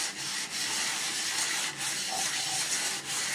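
Steady, close scrubbing with a bar of dish soap against a grimy surface, a continuous rough rubbing with faint rhythmic strokes and brief dips, no voices.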